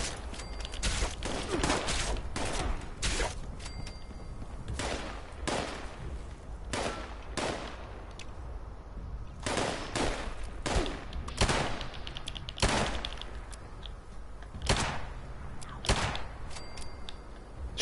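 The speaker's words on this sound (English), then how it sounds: "And they all just started shooting" Raiders opening fire on a camp in Fallout 76, a rapid string of sharp, distinct gunshots cracking out one after another at uneven intervals, fairly close and loud, with no voices over them.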